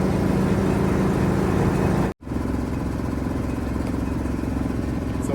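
A 1973 Mack FR700 diesel engine cranks over steadily and loudly, a continuous mechanical churn broken by one brief cut near the two-second mark before the cranking resumes.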